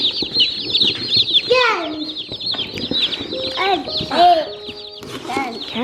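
Newly arrived baby meat chicks on a farm cheep in high, rapid chirps, mixed with a voice and other people talking nearby.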